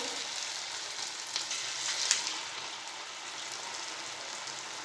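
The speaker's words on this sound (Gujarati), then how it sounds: "તો તેલ ગરમ થઈ ગયું છે। હવે આપણે આ રીતે નાની નાની સાઈઝના આપણે અંદર ભજીયા પાડી લઈશું।" Small farali bhajiya fritters fry in hot oil in a kadai over medium heat, a soft, even crackling sizzle with a few brighter pops partway through, fairly quiet and without speech.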